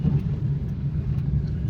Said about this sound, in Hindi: ट्रैफिक देखो किस तरह से जाम हो गई है